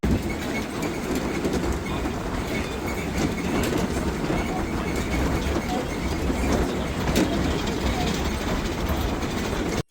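A small train in the Florida Keys rumbles past close by, a loud, steady mechanical roar with clickety-clack rattling wheels that holds for the whole stretch before cutting off abruptly.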